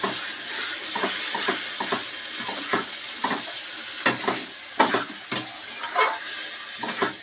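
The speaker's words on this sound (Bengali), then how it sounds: "এবার আমি সমস্ত মশলাগুলোকে ডালের সাথে ভালো করে এভাবে মাখিয়ে নেব।" Boiled tadka dal is stirred with spices in a frying pan, making a constant sizzle and hiss under repeated scraping spatula strokes in an uneven rhythm, close and fairly loud.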